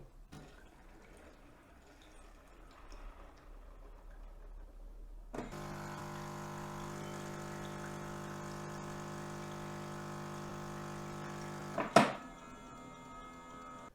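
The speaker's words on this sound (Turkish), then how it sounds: "makine şu an gördüğünüz üzere tekrar kanal temizliklerini yapmaya başlıyor" A Siemens EQ500 automatic coffee machine rinses its internal pipes after being switched off, starting with a sudden steady pumping hum and water flow that holds for several seconds before a sharp click and a softer tail.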